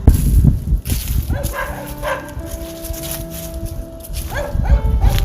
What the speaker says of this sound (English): Oh, and there's the dogs because we've come around the house.